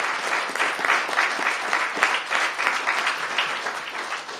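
Steady applause from an audience at a DC mayoral public event, dense and even in level, lasting throughout with no voices above it.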